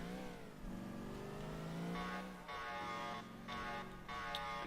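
2003 NYPD Impala police car in GTA IV, engine revving and shifting through gears at close range, with a steady mid-pitched drone that steps up several times, no talk.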